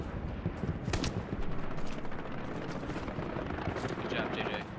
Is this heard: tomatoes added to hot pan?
no